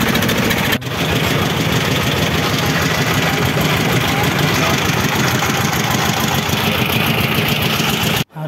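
Boat engine running steadily and loudly at close range after passengers board near White Rock in Sylhet, Bangladesh, a continuous droning hum with a brief cut near the end.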